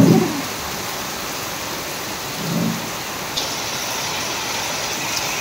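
Steady rain pours down outdoors near a garden plant, a dense even hiss throughout with a couple of faint low rumbles, no voices.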